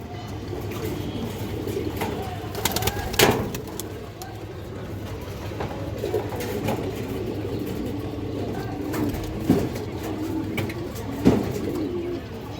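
A female Kajla Putti pigeon coos softly in repeated low phrases, with other birds and a faint idling engine in the background and a few brief louder knocks.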